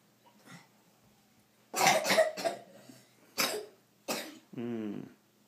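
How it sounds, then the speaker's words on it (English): A child gives a few short, soft coughs close by, followed by a brief vocal sound, during indoor evening yoga. "That's a nice cough."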